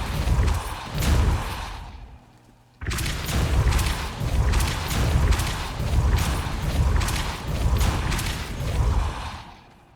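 Spell blasts from Confringo and Depulso in Hogwarts Legacy: a burst of booming impacts, a brief near-silent pause, then a long stretch of repeated loud blasts and whooshing bursts in a steady rhythm.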